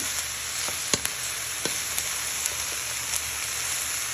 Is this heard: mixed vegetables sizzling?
yes